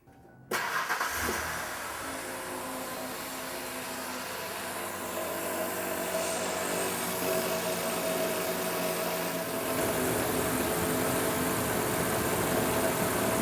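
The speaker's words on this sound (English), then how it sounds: "let's start the engine back up again." Car engine cranking and catching after fuel system work, then settling into a steady close-up idle that runs evenly for over ten seconds, with no talk.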